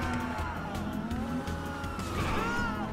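Several police cars with wailing sirens chasing during a robbery in GTA 5 Online, overlapping rising and falling siren tones over steady engine and traffic noise.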